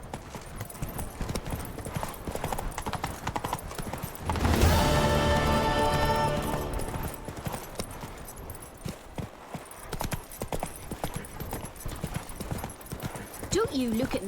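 Hooves of Roach, a horse in the video game The Witcher 3: Wild Hunt, clip-clopping steadily in the game's world, with a brief louder burst partway through and occasional voices speaking over the hoofbeats.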